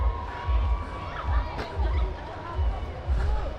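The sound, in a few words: crowd at Dawki riverside, Meghalaya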